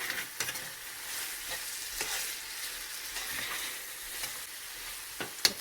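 Chicken in a yogurt mixture frying in a pan, with a steady close sizzle and soft scraping stirs of a spoon repeating every second or so.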